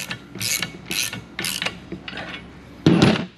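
A ratchet wrench clicks in short bursts while tightening a bolt on a gyrocopter rotorhead hub bar fitted with bushings, close and distinct, about four quick ratcheting strokes followed by a louder clunk.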